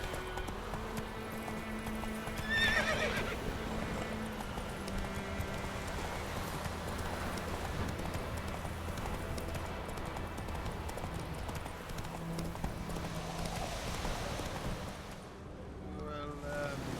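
A horse galloping in The Witcher 3: Wild Hunt, with steady rhythmic hoofbeats running throughout over wind and ambient game sound, ending in a brief drop near the end.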